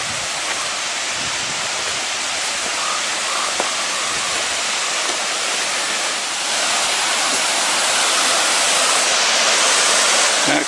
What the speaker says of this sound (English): That creek is coming down hard.